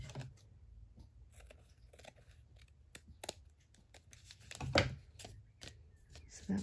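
Scissors snip and trim paper for a handmade junk journal, a run of small dry cuts and crisp rustles close by, with a louder crunchy snip near the end and no talking.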